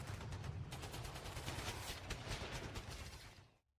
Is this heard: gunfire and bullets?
yes